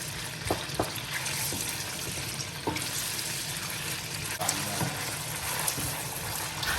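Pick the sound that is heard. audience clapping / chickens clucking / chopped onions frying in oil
chopped onions frying in oil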